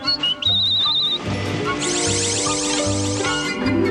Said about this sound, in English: I'll whistle up a winter.